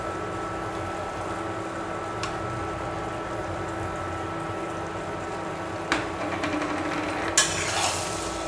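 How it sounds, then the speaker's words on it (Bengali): Crushed five-spice seeds sizzle in hot oil on a tawa while mango pickle with Bombay chillies is made, a steady close frying hiss with a few sharp utensil clinks near the end. "এখন দিয়ে দিব পাঁচফোড়ন। পাঁচফোড়নগুলো তাওয়ায় তেলে"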